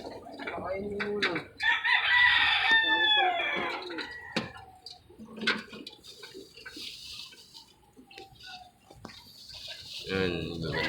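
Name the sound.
chickens clucking and crowing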